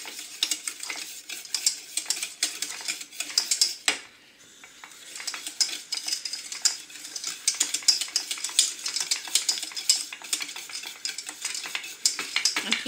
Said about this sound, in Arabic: غنخلط مكاع الجوانب باش ما يلصقش ليا ويتحرق.